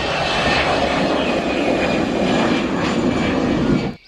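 A fixed-wing airplane's engine drones loud and steady, a broad continuous roar that holds evenly before cutting off abruptly at the end.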